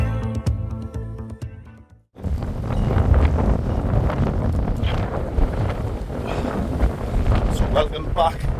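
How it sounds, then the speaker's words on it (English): Strong gusting wind roars and buffets the microphone almost continuously, loud and close, with a brief lull early on. "It's blowing a gale"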